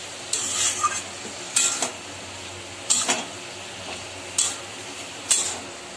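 A spice paste with Kashmiri chilli powder is sautéed in oil for a ash gourd greens dish, a soft sizzle punctuated by five evenly spaced bursts of spatula scraping against the pan, with no one speaking.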